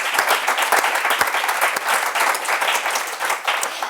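An audience at a law event applauds the course sponsors, giving dense, continuous clapping from many hands at close range that holds steady throughout.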